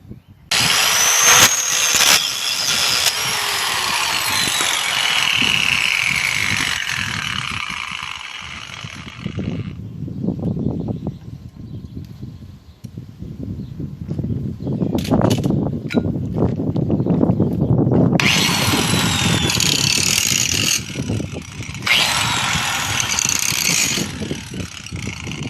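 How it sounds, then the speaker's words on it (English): Center pins on new leaf springs for a 1955 Cadillac Coupe DeVille rear end being ground down, loud high whining grinder bursts at the start and end with lower rumbling mechanical noise between. "So I have ground down the center pins on the new leaf springs"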